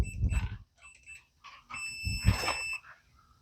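An electronic smart lock on an auto shop door beeps as a user code is keyed in: a few short electronic chirps, then a longer sustained tone, with soft handling noises between them.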